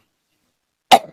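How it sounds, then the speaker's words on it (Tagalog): A single short, sharp cough comes after near silence, close and fairly loud. "Medyo inuubo kasi ako"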